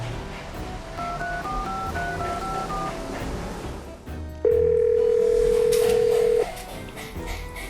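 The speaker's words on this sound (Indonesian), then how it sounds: "Coba gue telepon teman gue ya." A phone call being placed: a quick series of paired dialing tones, then a steady loud tone held for about two seconds, over a muffled background.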